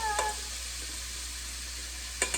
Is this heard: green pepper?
yes